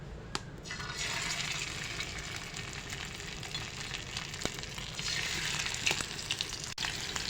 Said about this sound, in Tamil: எண்ணெய் காஞ்சிட்டு மீனை போட்டுக்கணும்.